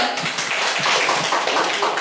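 A room full of people clap together, a dense, noisy patter of applause that carries steadily through the moment.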